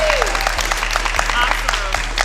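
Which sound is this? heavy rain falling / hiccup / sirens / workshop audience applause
workshop audience applause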